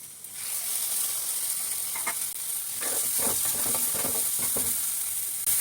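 Egg omelette and potato curry sizzling steadily in a pan as water goes in, with a continuous bright hiss and a few louder bursts and stirring scrapes.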